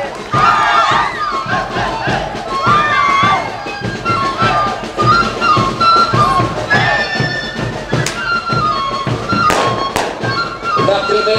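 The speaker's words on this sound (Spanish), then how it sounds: "¡Aplaudan, por favor!" At a university event in Juliaca, a large crowd of former students cheers and shouts loudly alongside crackling fireworks and firecrackers, with sharp bangs cutting through a continuous roar.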